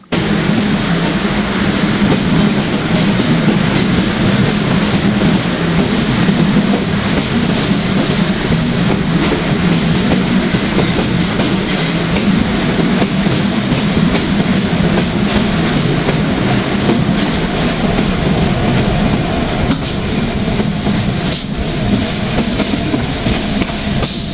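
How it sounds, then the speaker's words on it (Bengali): The Dhumketu Express from Rajshahi to Dhaka departs at night, a steady loud rumble of rolling railcars with clattering wheels and occasional faint squeals, continuous and close from inside or beside the train. "অবশেষে ট্রেনটি রাত 2:53 ঢাকার উদ্দেশ্যে রওনা দিল"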